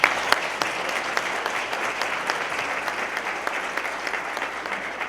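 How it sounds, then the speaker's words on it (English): An audience at a city's State of the City address breaks into a round of applause. Dense, steady clapping continues evenly from start to finish, with no voices over it. "Let's give them a round of applause."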